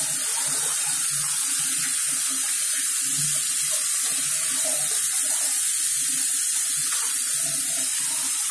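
Fish is washed in a sink under a strong, continuous stream of tap water that splashes loudly from start to end, with soft, irregular lower sloshes as the fish is handled. No one speaks.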